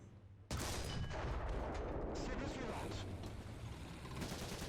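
AMX-30 tank cannon fired in a video game with heavy recoil, a single loud, sudden blast after a brief quiet moment, followed by a long, dense rumbling tail that slowly fades.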